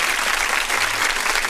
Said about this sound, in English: let me properly welcome you with an applause